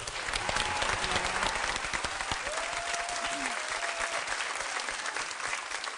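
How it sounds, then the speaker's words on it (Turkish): A television studio audience gives a big, sustained round of applause for newly arrived guests, a dense, continuous wash of clapping with faint music tones threaded underneath. "Konuk, yeni konuklarımız için koca bir alkış alalım efendim."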